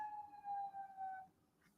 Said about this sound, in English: We got some loud ass sirens in the background.